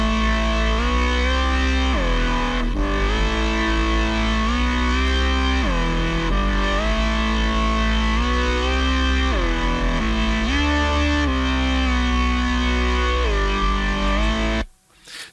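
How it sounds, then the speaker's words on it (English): A soloed Absinthe synth line, gritty and grunty from distortion through the iZotope Trash 2 plugin, drones loudly and continuously with shifting pitched steps, then cuts off abruptly at the end. "Absinthe is the main synth track for that, and it's fairly grunty."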